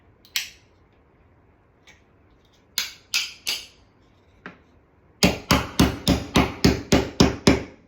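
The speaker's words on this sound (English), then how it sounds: "We'll just hammer it in again." Sharp hammer strikes on wood: a few scattered taps, then a rapid run of about ten evenly spaced blows, crisp and close with no talking.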